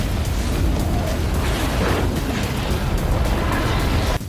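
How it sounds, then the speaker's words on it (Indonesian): In a film scene, an explosion sets off a huge snow avalanche. A dense, loud, continuous roaring rumble fills the whole stretch without letting up. "Sander meluncur cepat dan meledakkan salju yang membuat sebuah longsor salju yang sangat besar."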